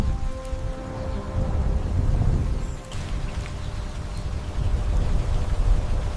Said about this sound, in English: The Amazon creates its own rain.